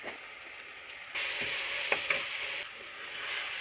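Tomato and green chilli sizzling as they sauté in a pan, a steady hiss that jumps louder partway through with a couple of sharp crackles, then eases slightly near the end.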